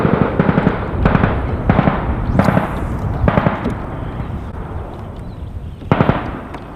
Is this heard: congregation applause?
no